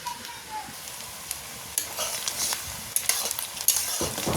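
Chopped garlic and onion sizzle in oil tempered with cumin and bay leaf for a meat curry. A steady, loud frying hiss runs throughout, broken by close spoon scrapes and clinks against the pan, and grows busier toward the end.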